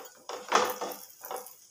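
A lid is set onto a frying pan while a chicken, egg and potato pancake cooks: a few close metallic clanks and a brief scrape, then a softer knock.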